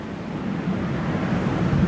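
Loud, steady gusting roar of strong wind outside, with big trees in it, low and continuous, swelling slightly toward the end.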